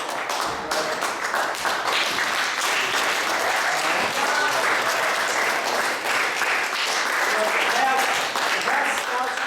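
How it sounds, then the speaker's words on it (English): Applause at a Scout troop's Court of Honor, many hands clapping in a loud continuous wash after people rise, holding strong for several seconds with scattered voices and cheers mixed in. "Stand up and give them a round of applause."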